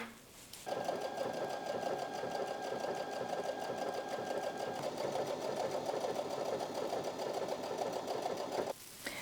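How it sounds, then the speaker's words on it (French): A sewing machine runs steadily, stitching a double seam on a fruit and vegetable bag. Its fast, even mechanical whir starts after a short pause and stops near the end, close and alone. "Ensuite, je vais faire une couture double"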